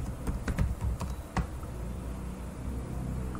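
Keys clatter on a computer keyboard as a SQL select statement is typed into a database console, a quick burst of close clicks in the first second and a half, then only faint steady room hiss.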